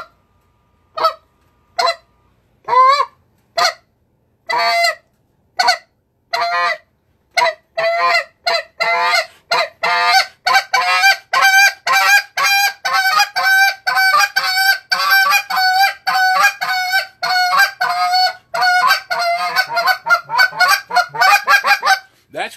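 A goose call blown by a person imitates goose honks with short clipped spit notes, starting as sparse separate honks and speeding into a rapid, steady honking rhythm, loud and close with no talk.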